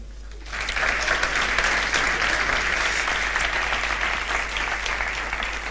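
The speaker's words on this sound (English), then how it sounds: "please give a warm applause" Conference audience at a symposium in Aarhus breaks into sustained, loud applause after a brief quieter start, a dense wash of clapping that holds steady for several seconds with no talk over it.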